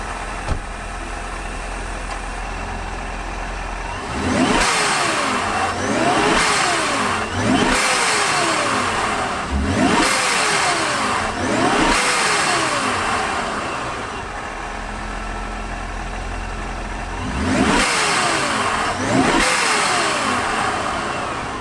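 A boosted Jeep JLU on a stock exhaust, fitted with an atmospheric blow-off valve, starts up loudly and close. A run of sharp, repeated throttle blips follows, with quiet idle gaps between them before more revs.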